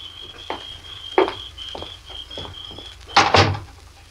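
A door is opened in a 1945 radio drama: a handful of soft knocks and creaks sound, followed by a louder latch-and-swing noise near the end, all over a faint steady hum from the old broadcast.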